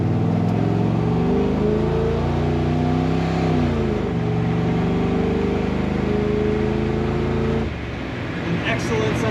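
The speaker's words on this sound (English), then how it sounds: "An excellent sound coming out the tailpipe of this truck." A 1968 Chevrolet C10 pickup engine rumbles loudly through its exhaust, pitch rising and falling as it revs, then settling back to a lower idle near the end.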